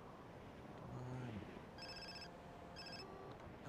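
A phone rings in Far Cry 3, two bursts of bright electronic trilling with a pause between them, heard over a steady game ambience and a low rumbling sound.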